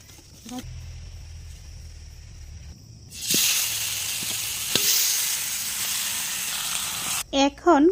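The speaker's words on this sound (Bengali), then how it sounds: "এখন কড়াইটা আবারও গরম করে মাখানো মাংসগুলো দিয়ে দিচ্ছি" Marinated duck meat hits a hot wok and bursts into a loud, continuous sizzle after a quiet start, frying steadily for several seconds before a couple of short clanks near the end.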